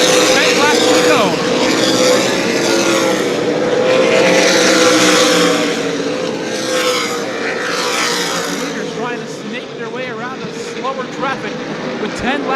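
Super late model race cars roar around New Smyrna Speedway in heavy traffic late in the race. Loud, sustained engine noise rises and falls as the cars close on a slower car.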